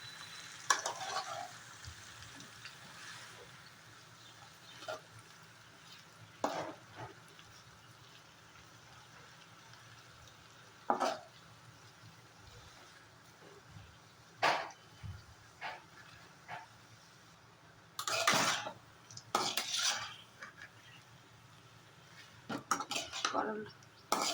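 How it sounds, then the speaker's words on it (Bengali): Kakrol slices frying in a pan are gently flipped, with scattered clinks and clatters of a utensil against the pan over a faint, low sizzle, spread across a quiet kitchen. "এবার আস্তে করে উল্টিয়ে দেবে এই দেখো"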